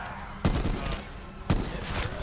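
Two heavy bursts of gunfire from a weapon in Call of Duty: Black Ops hit loud and close, each booming blast trailing off into a rumbling, crackling tail.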